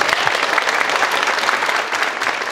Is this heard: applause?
yes